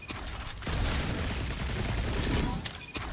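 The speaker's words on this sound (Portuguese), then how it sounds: "Eu tô dando um tiro no bagulho e não acontece nada" Gunfire in the Guardians of the Galaxy video game sounds as a dense, loud burst of rapid shots that lasts a few seconds, with sharper blasts at the start and end.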